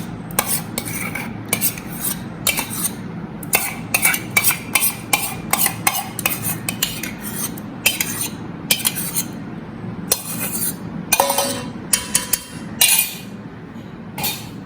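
A metal spoon stirs Sindhi kadhi with boiled, mashed tuar dal in a pot over a high flame, giving repeated scraping clinks and taps against the pot in irregular bursts, with no talking.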